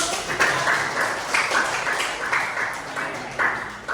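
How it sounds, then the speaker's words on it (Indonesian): Classroom students clap together in a dense, even patter of many hands that rises and falls over a few seconds, fairly close, with faint voices underneath. "Oke, boleh tepuk tangan."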